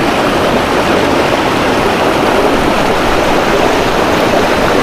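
River water flows through the Kadiya Dhro rock canyon in Kutch, a loud, steady, close rushing roar that keeps the same level without a break and with no voices over it.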